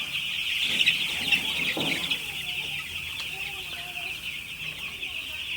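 A dense, continuous chorus of many six-day-old broiler chicks peeping fills the farm space at night, steady and high-pitched, with faint rustling beneath.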